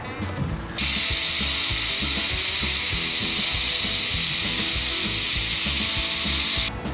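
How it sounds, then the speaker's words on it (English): A loud, steady high whine from a power tool runs for about six seconds, with a short lead-in and sudden stop, as a rafter is toe-nailed during cabin framing. "Now he's toe-nailing that on from the other side of that rafter."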